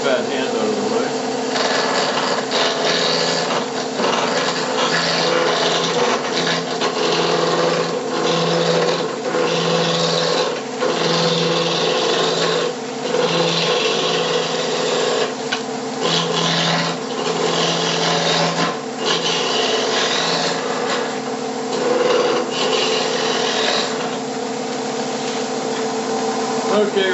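A wood blank for a toothpick holder spins on a lathe at about 1200 rpm as a tool rounds it into a cylinder, making a loud, continuous scraping whir with a steady motor hum throughout.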